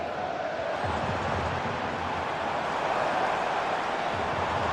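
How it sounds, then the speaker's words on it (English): Football stadium crowd during a match in which the home side trails, a steady broad roar of many voices heard at a distance, continuous and even throughout. "just listen to this crowd"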